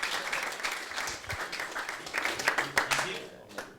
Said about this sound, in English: Can we give Limio a massive round of applause?